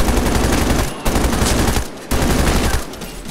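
Dense automatic gunfire from the video game Medal of Honor Warfighter, loud and nearly continuous across the clip, with brief gaps between bursts.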